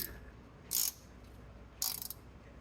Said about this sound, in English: I'll use this 12mm ratcheting wrench to tighten these bolts down the rest of the way